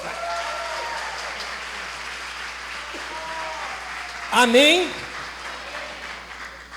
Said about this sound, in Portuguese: Se você quer mesmo, aplauda bem forte a Deus.